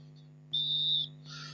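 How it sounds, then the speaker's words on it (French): A single sharp, high referee whistle blast starts petanque doubles matches, sounding for about half a second over a low hum, followed by fainter whistle-like tones. "le coup de sifflet vient d'être donné. Début des parties."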